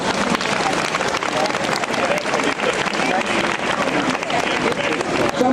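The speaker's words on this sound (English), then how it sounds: "Let's give them a big, big round of applause." Dense, loud applause from a large crowd honoring the Baltimore Great Blacks in Wax at a wax figure unveiling, steady continuous clapping close up with some crowd noise mixed in.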